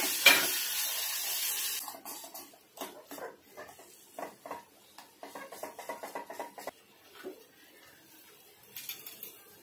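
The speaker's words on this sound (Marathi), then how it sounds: "हे रताळ्याचा स्मॅश केलेलं पण आपण टाकून घेऊया आणि हे पण चांगलं भाजूया" Mashed sweet potato roasting in a pan: a brief loud burst of sizzle at the start, then intermittent scraping and stirring clatter in short bursts, with quiet gaps and no talking.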